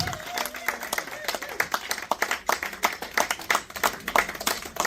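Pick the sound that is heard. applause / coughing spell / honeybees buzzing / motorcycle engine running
applause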